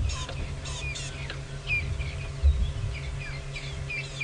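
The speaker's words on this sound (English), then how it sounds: "There was a barred owlet calling just now." A barred owlet calls from the bush during a sunset safari drive in Thamba, heard as faint, far-off repeated chirping notes over a steady low engine rumble, with no talk.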